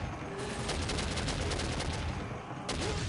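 Dense gunfire in the video game Soldier of Fortune, with pistol shots in rapid bursts and a steady loud clatter throughout, no voices.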